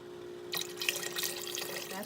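Water is poured into a cooking pot for caldo de queso, a steady splashing stream starting abruptly and running on at moderate loudness close by, with no talk over it.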